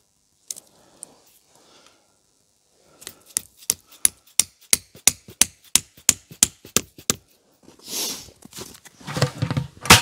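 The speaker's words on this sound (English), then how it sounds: "So there is really no question as to when to stop hammering, is there?" Someone outdoors is hammering a metal tap into a maple tree to collect sap, striking a steady series of sharp, close knocks that grow louder and quicker; faint movement noises come before and after the blows.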